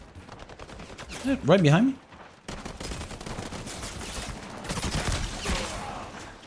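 Gunfire from a shooter video game crackles in dense bursts under a tense voiced moment, with steady rapid shots and explosive noise continuing through most of the stretch alongside brief talk.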